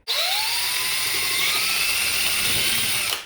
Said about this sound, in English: Drill a hole through the paper there